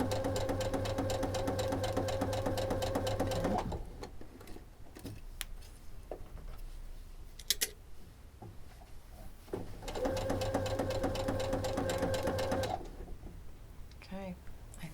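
A sewing machine stitches a kids' fabric infinity scarf in two steady whirring bursts, separated by quieter handling noises of fabric and the machine while a person talks.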